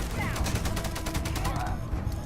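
A turret in the Starfield video game fires a rapid, continuous burst of gunfire, loud and close, with a brief sweeping electronic tone running under the shots.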